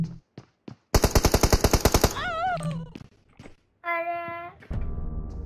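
Machine gun fire in the game PUBG: a rapid burst of evenly spaced shots lasting about a second, preceded by a few isolated pops and followed by voices speaking.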